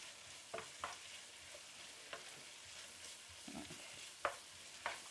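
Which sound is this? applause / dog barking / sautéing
sautéing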